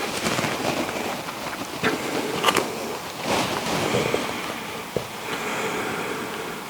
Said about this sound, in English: I don't know if you can hear the rain outside